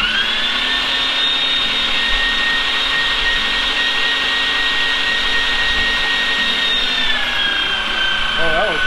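An electric meat grinder whirs continuously as it grinds pieces of brisket and bacon, a loud steady motor whine with a slight pitch dip near the end.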